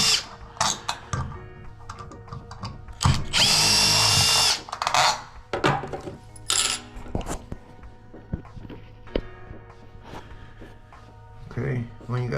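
A power drill runs in short bursts with one longer whir in the middle as screws come out of a Delta shower mixer handle, close and loud, with clicks and handling noise between the bursts.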